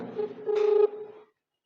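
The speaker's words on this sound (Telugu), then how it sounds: "ఒకసారి కిషోర్ గారికి ఫోన్ చేద్దామండి" A short burst of electronic telephone keypad tones, a few quick beeps in a row, then silence.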